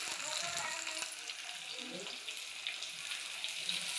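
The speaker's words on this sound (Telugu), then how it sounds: "ఇక్కడ కొబ్బరి వేగుతుంది." Grated coconut frying in oil in a pan for a mint coconut chutney, with a steady, hissing sizzle that holds at an even level, close and continuous.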